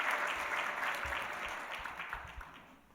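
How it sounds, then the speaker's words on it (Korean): Church congregation applauding during a worship service, steady moderate clapping from many hands that fades slightly toward the end. "우리 감사의 박수 한번 드리겠습니다."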